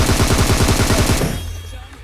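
Rapid automatic gunfire in the mobile battle royale game PUBG Mobile rattles loud and close in a fast burst, then cuts off and leaves a fading echo.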